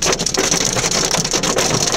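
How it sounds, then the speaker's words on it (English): Hail pelting down during a supercell thunderstorm in northern Illinois, a loud, dense clatter of rapid irregular impacts close by, hammering steadily with no talk. "Oh, hail. We found hail."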